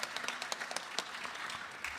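Faint applause from a small audience at a Navratri gathering, loose individual claps at an uneven pace over a couple of seconds, quiet and somewhat distant.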